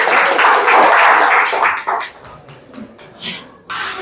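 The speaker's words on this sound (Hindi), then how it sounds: "तालियां हो जाए अभी इनके लिए एक बार" Classroom applause for students during a chemistry lesson, a burst of clapping from many hands that dies away after about two seconds, followed by scattered quieter sounds.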